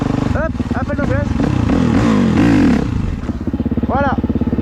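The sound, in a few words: motorcycle in third gear at low revs, clutch popped for wheelie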